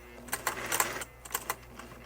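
A sewing machine lock-stitching a braided rope coaster runs in short, rapid bursts of needle clatter, fairly close, with brief pauses between runs.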